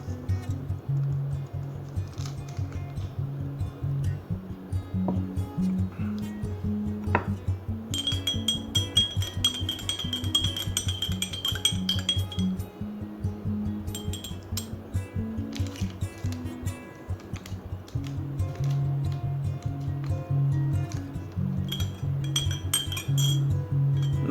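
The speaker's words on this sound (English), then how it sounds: "When I drop the color powder into the glass" Color powder dropped into a glass of liquid during a home matter experiment, with light glass clinks and taps over a steady background hum, no talking.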